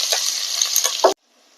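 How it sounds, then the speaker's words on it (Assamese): Onions fry in a pan, a bright close sizzle with a couple of clinks that stops abruptly after about a second, leaving near silence. "এতিয়া মই পিঁয়াজখিনি ইয়াত ফ্ৰাই কৰি ল'ম।"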